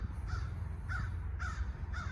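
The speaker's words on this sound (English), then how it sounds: "Crows, you're being loud." Four loud crow caws in an even rhythm, fairly close, over a low steady rumble, outdoors in the wilderness.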